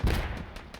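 Explosions and gunfire in an online war video game during a competitive match on an EU server: one loud, close, low boom at the start that rolls off into a rumbling tail, with a sharp crack at the very end.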